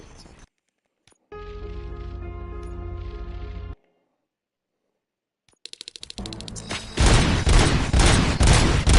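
Gunfire in a RoboCop video game: a steady electronic game tone gives way to rapid, loud bursts of automatic shots that build into a dense, continuous fusillade, with no voices over the firing.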